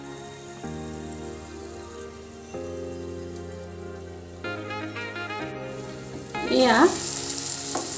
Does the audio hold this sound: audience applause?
no